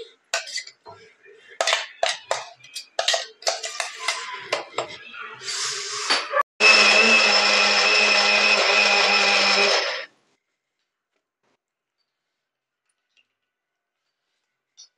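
Red chillies for thecha are ground in a kitchen mixer: a few clattering metal clinks and short pulses give way to a loud, steady whirring grind of several seconds that cuts off into silence.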